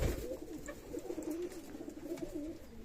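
Pigeons coo continuously in low, throaty rolling calls, several unpaired birds close by overlapping in a soft steady murmur.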